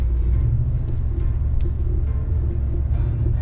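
A Ford pickup truck on street tires drives through snow, its engine rumbling low and steady close by with a faint whir as the wheels spin a little, no talking.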